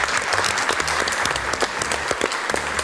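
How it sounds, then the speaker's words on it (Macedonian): Sustained audience applause at a Macedonian television cooking competition, a steady dense patter of many hands clapping throughout at close range, with no voices over it. "Еве голем аплауз!"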